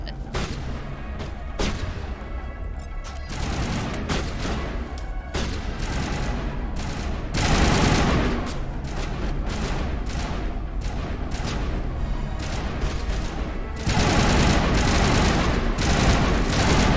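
Gunfire from a weapon in the video game Mass Effect Legendary, loud rapid shots and booming bursts repeating through the stretch, with heavier blasts near the end and a voice talking now and then.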